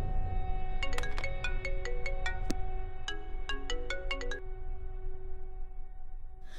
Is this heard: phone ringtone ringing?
yes